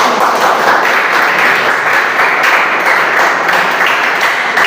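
A classroom of students claps loudly and continuously for a group that has just presented, the dense applause close and even from start to finish.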